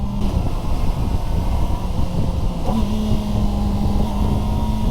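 A Kawasaki ZX4RR sport bike's engine runs at high revs, a loud continuous buzzing drone with a shift in pitch partway through, heard alone without speech.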